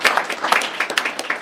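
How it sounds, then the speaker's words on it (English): Applause at a Port Authority board meeting, a short burst of loud, dense clapping from the room with individual claps standing out, heard alone without speech. "that deserves an applause"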